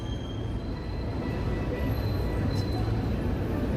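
Steady low rumble of a Toronto Line 1 subway train rising through a ventilation shaft downtown, loud and continuous with faint squeal, while a person talks over it.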